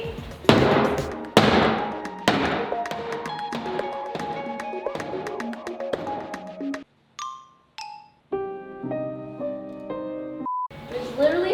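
Sharp hammer blows knock a wooden piece off a home office furniture piece being flipped, a run of loud close thuds and taps, followed by lighter tinkling and ringing knocks, with brief gaps of near silence.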